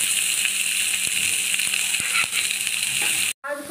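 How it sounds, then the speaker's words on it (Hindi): Onions with panch phoron and green chillies frying in oil, a dense steady sizzle with occasional spatula taps and stirs up close, ending with a short break and a clink. "प्याज को सॉफ्ट होने तक भूनेंगे"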